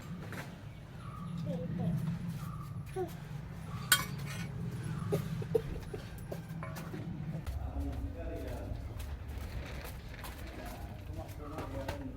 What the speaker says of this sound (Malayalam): അപ്പോൾ പാത്രങ്ങളൊക്കെ കഴുകി ഒന്ന്